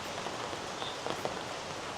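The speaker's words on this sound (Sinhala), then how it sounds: "අපි යනවා වැස්ස තෙමීගෙන තෙමෙන්නේ නැහැ කුඩෙන් යන්නේ." Rain falls at a resort at night, a faint even patter on surfaces with a few louder nearby drops and light rustles.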